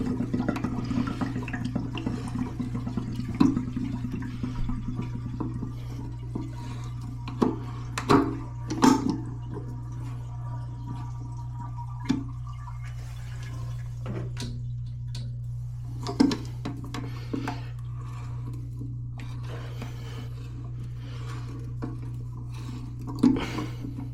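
A pressure assist toilet cartridge being unscrewed, with scattered clicks, knocks and scraping of the housing over a steady low hum, the sharper taps spaced irregularly and close.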